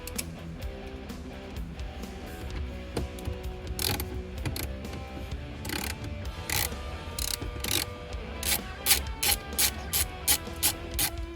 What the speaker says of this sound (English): you'll more than likely need your ratchet to break these free